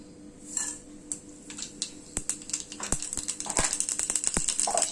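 Mustard seeds pop and splutter in two spoons of hot sesame oil in a small kadai, giving sharp, irregular crackles that grow denser and faster over a few seconds, heard close and alone.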